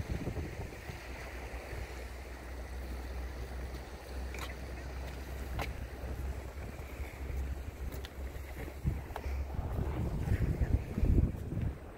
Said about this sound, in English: Even though it is a bit windy out here for me.